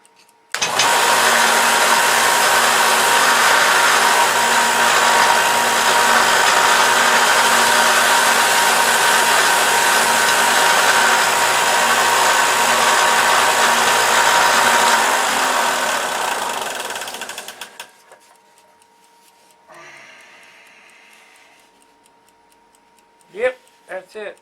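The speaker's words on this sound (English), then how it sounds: "I gotta straighten that up on the sander" A power sander runs loud and steady for about seventeen seconds while a part for a Control Line Excalibur model airplane is trued up on it, then cuts off, leaving a few faint clicks and handling noises.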